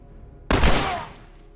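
A single loud gunshot from The Last of Us firefight bursts in sharply and decays over about a second, standing alone without talk.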